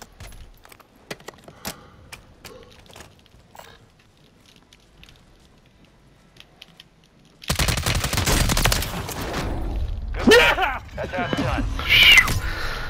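Call of Duty gunfire: scattered faint clicks and taps give way to a sudden loud stretch of dense shots and impacts, with players talking over it.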